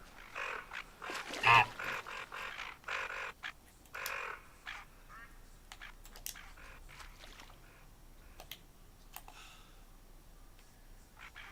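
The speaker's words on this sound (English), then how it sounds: "Yeah, it's more tufted ducks." Tufted ducks calling in a hunting video game, with repeated raspy calls near the start, one loud burst among them, fading into sparse faint calls and clicks over a quiet ambient background.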